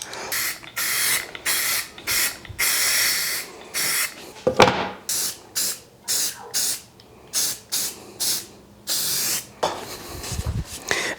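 Rust-Oleum Latte spray paint hisses out of an aerosol can onto the tops of CNC-cut wall art pieces in a dozen or so loud, close, evenly spaced bursts, each lasting under a second.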